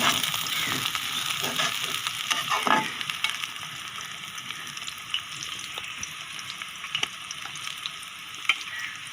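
Chopped green chillies sizzling in hot oil with garlic and onion in a pan, a steady close fry broken by scraping stirs and small spits and pops, with no talking.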